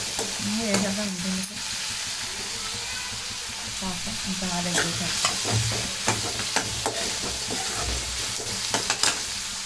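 Egg curry mixture for egg podi is stirred in a hot pan, giving repeated scraping strokes over a constant oily sizzle, close and fairly loud, with occasional sharper clicks of the spoon against the pan.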